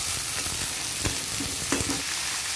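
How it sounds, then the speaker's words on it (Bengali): Potatoes and onions frying in a pan, stirred with a spatula: a continuous close sizzle with scraping strokes of the utensil against the pan, no talking. "পেঁয়াজটা মোটামুটি ভেজে নিয়েছি, এখন আলুটা দিয়ে দেব"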